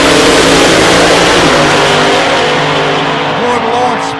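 Drag racing cars launch down the strip during Twilight Nationals 2021 qualifying, engines roaring loud and sustained with a rising, revving tone, while a commentator talks over the noise.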